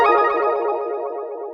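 Short unprocessed synth arpeggio accent, a bright sustained tonal phrase that fades gradually over under two seconds, alone with no voices.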